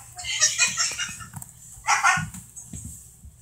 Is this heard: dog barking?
yes